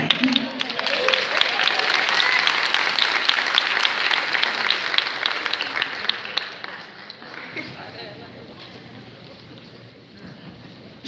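Audience applause at a summer pinning ceremony, a full round of clapping from a crowd that fades to a few scattered claps, with faint voices near the end.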